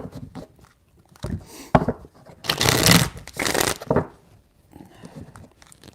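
Tarot cards are shuffled by hand at close range, a few quick riffling bursts with a longer, louder shuffle in the middle, then quiet.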